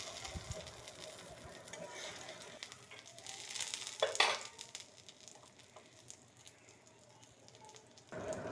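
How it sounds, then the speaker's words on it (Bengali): Egg omelette mixture frying on a hot tawa griddle gives a steady, close sizzle, with a brief louder scrape or stir near the middle before the crackle settles again. "এখন এবার আমি তাওয়াতে ছেড়ে দিব"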